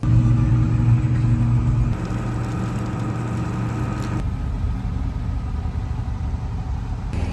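A truck engine idles with a steady low rumble, its pitch shifting slightly partway through, running alone without voices.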